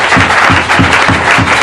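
Church congregation clapping and cheering together, a dense steady wash of applause with a rhythmic pulse of hands beating in time, loud and close throughout.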